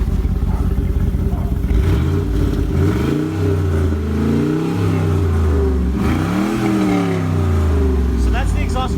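A 2005 Pontiac GTO with an LS2 V8 and its exhaust valves closed revs repeatedly, the engine note climbing and falling in several loud, close pulls with a muffled, restrained exhaust tone.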